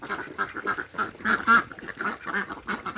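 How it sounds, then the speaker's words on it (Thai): Yili ducks quack repeatedly close by, a steady run of overlapping nasal calls over about three seconds. "เป็ดอีเหลียงครับ"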